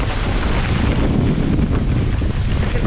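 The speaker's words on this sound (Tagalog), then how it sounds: "Biglang pumagpag yung malakas na hangin." A strong outdoor wind buffets the microphone in loud, continuous roaring gusts, with heavy low rumble and no letup.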